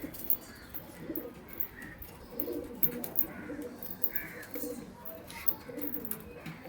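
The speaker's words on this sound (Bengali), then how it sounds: "এটাও বন্ধ লেজেরই পায়রা" Pigeons coo repeatedly in a loft holding fancy-tailed pigeons, soft rounded calls overlapping at close range against steady background chatter of other birds.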